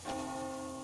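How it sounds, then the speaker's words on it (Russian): Bell ringing in the Metro Exodus video game, one struck toll with a lingering metallic hum, heard faintly and alone. "Слышишь, колокол?"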